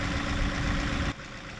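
A compact tractor fitted with a grapple and backhoe idles nearby, a steady low rumble for over a second, then the sound drops abruptly to a quieter, thinner idle.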